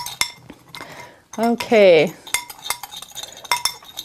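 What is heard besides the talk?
spoon stirring salt and sand together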